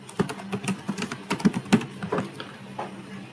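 Someone types on a computer keyboard during an HTML web development lesson. Irregular clusters of crisp key clicks sound close by for about three seconds, then fade into quieter taps, with no voices.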